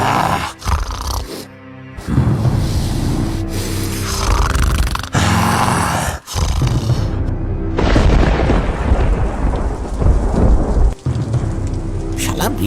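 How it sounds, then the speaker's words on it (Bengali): Heavy rain pours steadily in a cartoon scene near a bamboo grove, broken by repeated loud thunder booms and cracks that nearly fill the clip, with a brief faint voice between claps. "শালা বৃষ্টিটা আর আসার সময় পেল না, থেকে থেকেই বাঁশ বাগানের কাছে এসে শুরু হলো"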